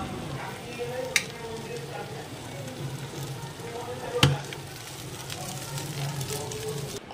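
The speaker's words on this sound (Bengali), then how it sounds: "এখন মাংসের আলুটা ভেজে নিচ্ছি, একটু লাল লাল করে ভাজবো।" Potatoes sizzle with meat in a pan, browning to a reddish colour, a continuous crackling fry with two sharp utensil knocks, one early and one louder midway.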